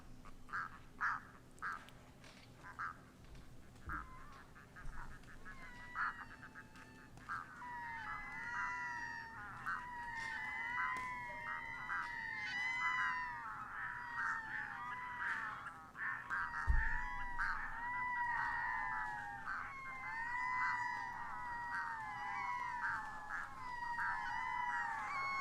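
Raspy, repeated bird calls chatter at night in Iceland in overlapping bursts, growing busier and louder over a low steady hum, with a few sharp clicks early on.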